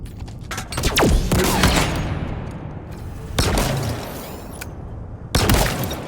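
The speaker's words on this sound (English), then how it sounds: "I empty a clip of shock rifle into him, and then I'm going to follow it up with the sniper rifle for the kill." Heavy weapon fire in Halo Infinite: loud, sharp shock rifle blasts and booming sniper rifle shots crack out in separate bursts, each trailing off into a long echoing decay.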